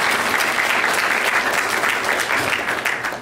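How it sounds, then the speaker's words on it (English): An audience gives a sustained round of applause: dense, loud clapping that fills the whole moment and tapers slightly at the end. "Can we please give her a round of applause?"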